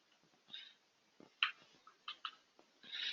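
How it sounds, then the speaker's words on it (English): Keys tapped on a computer keyboard while a street address is entered, a few faint scattered clicks in small bursts with pauses between them, recorded close in a quiet office. "Here I'm just typing in the street number and street name."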